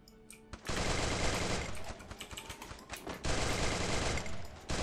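Rapid automatic gunfire from the Free Fire battle game rattles in dense, loud bursts, broken by brief pauses before another long volley, with no talking over it.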